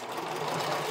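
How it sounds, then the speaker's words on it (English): A sewing machine runs steadily, top stitching over the seam allowances of a bikini band on an underwire strappy top, a continuous close whir with no pauses. "I'm also going to top stitch over the seam allowances in the band as well"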